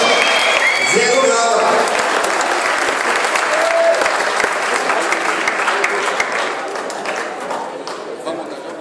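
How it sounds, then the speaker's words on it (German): A crowd at an MMA fight night applauds the fighters, loud dense clapping with some cheering at first, sustained throughout and slowly easing toward the end. "Dann Applaus für die Kämpfer."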